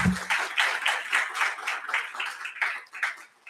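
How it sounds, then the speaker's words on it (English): An awards ceremony audience claps in a fast, rhythmic round that gradually thins and fades toward the end. "Let's give another round of applause"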